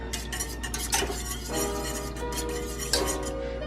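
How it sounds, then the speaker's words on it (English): A whisk beats agar into liquid in a pot, making rapid rhythmic metallic clinks and scraping strokes, close and steady, with no voices. "I'm just gonna whisk it in"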